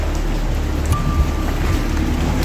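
Rain falls steadily at night near a barangay, a constant broadband hiss with a few faint low bumps, no voices.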